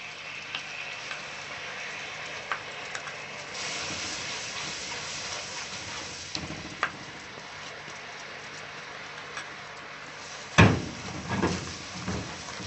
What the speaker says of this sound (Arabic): بعد ما السكر اتكرمل معانا، انا هنزل عليه كده بالفانيليا، وهنزل عليه بمعلقتين العسل اهو